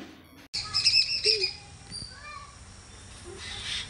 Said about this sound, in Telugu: చిలుకలు మళ్ళీ వస్తున్నాయి